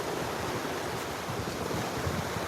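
Ocean waves wash onto a warm beach at sunset as a soft breeze blows in, forming a steady, close wash of surf and wind noise with no voices.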